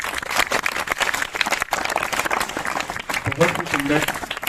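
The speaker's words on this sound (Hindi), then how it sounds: "एक बार फिर से जोरदार ताली" An audience at a school's Hindi play about Shaheed Udham Singh breaks into applause, steady clapping of moderate loudness mixed with a voice talking over it.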